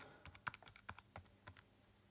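Rapid, light keypresses click close by as numbers are tapped out on a calculator, an irregular patter of crisp little taps with no talking over them.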